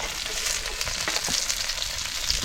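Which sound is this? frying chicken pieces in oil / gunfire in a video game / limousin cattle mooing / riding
frying chicken pieces in oil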